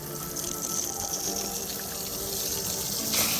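Water from a hose steadily rinses scrubbed bodywork on a second-generation Ford Explorer, a continuous close gushing spray that runs unbroken throughout.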